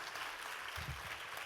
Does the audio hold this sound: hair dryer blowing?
no